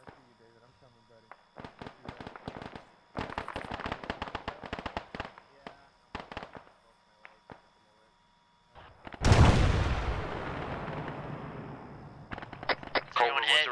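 Incoming gunfire and artillery in the military shooter ArmA 3: scattered sharp cracks and rapid bursts, then a loud rumbling impact that slowly fades, with radio-like chatter and voices in between.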